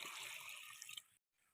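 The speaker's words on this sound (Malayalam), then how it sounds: "വേവാൻ ആവശ്യമായി വെള്ളം ഒഴിക്കാം." Water is poured into a pressure cooker holding taro stems for cooking, a brief, quiet, steady splashing stream that stops abruptly.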